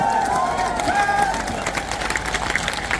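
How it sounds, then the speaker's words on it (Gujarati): Crowd at a political rally in Gujarat applauding steadily, clapping and cheering sustained throughout, with a brief voice or tone early on. "બે હાથ ઊંચા રાખીને તાળીઓ પડો એટલે ખબર પડે"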